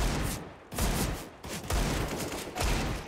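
Bursts of automatic rifle fire crack out in a competitive Counter-Strike match on the Nuke map, several loud volleys separated by brief pauses, with caster talk faintly in the background.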